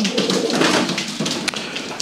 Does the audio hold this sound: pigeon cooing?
yes